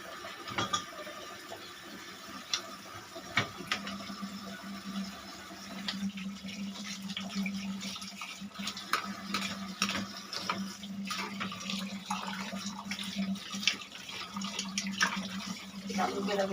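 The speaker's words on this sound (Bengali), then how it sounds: "চামচগুলো আমি ধুয়ে নিয়ে পরে" Spoons rinsed under a running kitchen tap, with a steady stream of water and scattered light metallic clinks throughout, over a faint steady hum.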